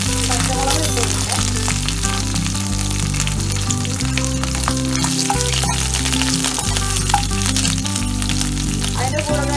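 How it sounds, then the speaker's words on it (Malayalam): Fennel seeds, curry leaves and green chillies fry in hot oil, a loud steady sizzle with crackles and occasional stirring, close up throughout. "എണ്ണ ചൂടായപ്പോൾ ഒരു നുള്ള് പെരിഞ്ജീരകം ഇട്ടു, കറിവേപ്പില ഇട്ടു, പച്ചമുളക് ഇട്ടിട്ടുണ്ട്."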